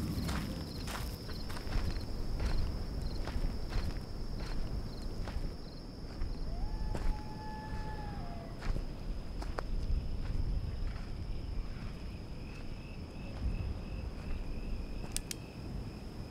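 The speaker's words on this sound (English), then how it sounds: "I love the sound of just walking through the desert." Footsteps crunching steadily over desert ground at night, a continuous close walking rhythm with a shrill cricket chirp and faint insect tones over it.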